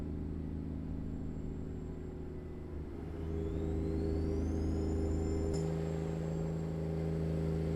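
A Freightliner Argosy truck in American Truck Simulator gives a steady droning engine hum. A rising turbo whistle sweeps upward partway through, then holds with a louder rumble and a sustained high whine to the end. No one is talking.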